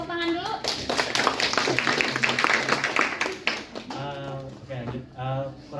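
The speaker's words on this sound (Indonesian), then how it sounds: "Boleh tepuk tangan dulu?" Students in a university class clap together in a brief, lively round of sharp claps, which gives way to voices talking as it fades.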